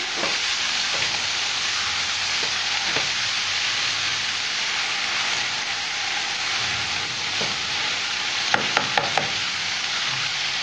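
Bombay duck fish, salted to soften, frying in a pan and being stirred: a loud, continuous sizzle with a few sharp clicks of the utensil near the end.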